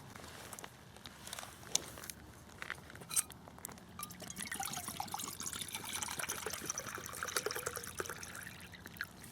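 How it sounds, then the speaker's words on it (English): Water poured into a small camp pot on an Esbit solid fuel stove set, a soft continuous trickle with faint metallic clinks, close and quiet. "So we'll fill that with a full 2 cups of water there."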